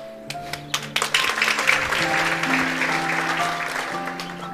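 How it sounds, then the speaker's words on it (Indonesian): Applause from a church congregation during a Sunday worship service, a broad wash of clapping that swells after a few sharp early claps, with sustained tones and murmuring underneath. "Saya senang dengan tepuk tangan yang tadi dimulai sebelah kanan saya."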